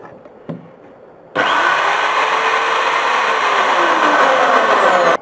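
After a faint click, an electric drill fitted with a homemade cotton candy spinner starts abruptly and spins with a loud, steady whir, its pitch sagging slightly before it stops.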